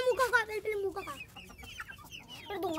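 Chicks at feeding time cheep and cluck nearby in short, rising calls, moderately loud, with soft background rustling between calls.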